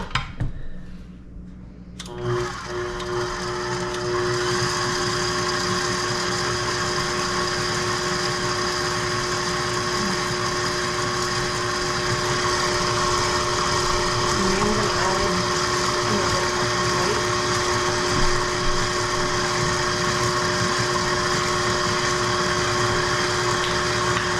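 Whole wheat and white flour being mixed by an electric mixer, a steady motor whine that runs alone and evenly for over twenty seconds after a brief start-up.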